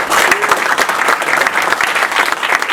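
Audience applause fills a lecture hall as a speaker introduces the owner of the establishment, a steady, dense clapping that holds loud and continuous throughout with no voices over it.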